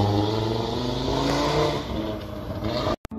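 A car engine accelerates in a steady loud roar that holds for nearly three seconds, with the tone rising slightly, before a sudden brief dropout and a thump.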